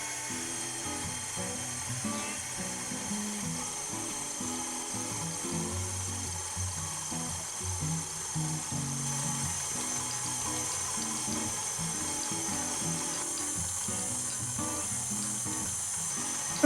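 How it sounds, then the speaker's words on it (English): A stand mixer with a dough hook kneads honey and oatmeal bread roll dough, a steady motor whir with a rhythmic churning thump running continuously and fairly loud, with no talk. "using your dough hook this time, mix the ingredients together for about a minute until everything is combined"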